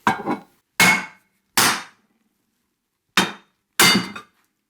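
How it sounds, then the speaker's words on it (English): Hammer blows smashing apart a welded cast worm gear cradle from a mill: five sharp, loud metallic-woody impacts, in two close pairs and then a quick pair after a pause, each ringing briefly before silence. "I want to smash this back apart"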